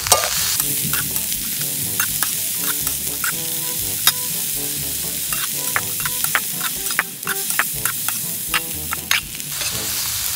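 June beetles (salagubang) frying in a pan, a steady loud sizzle with repeated scraping stirs and clinks of the utensil against the pan throughout, no voices.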